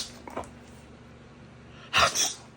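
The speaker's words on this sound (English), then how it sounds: "Stop sneezing on us." A pit bull puppy sneezes sharply up close, a faint snort early on followed by a louder double sneeze near the end, alone in a quiet room.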